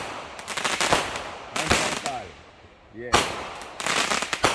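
Fireworks going off at a Canada Day campsite, with loud rapid crackling bursts in two volleys separated by a quieter gap and whistling rising tones between them, while a person briefly speaks.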